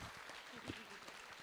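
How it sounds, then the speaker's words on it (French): Audience applause after a first-time singing duo at a televised Scrabble duplicate event, faint and brief clapping with voices mixed in. "On peut les applaudir bien fort"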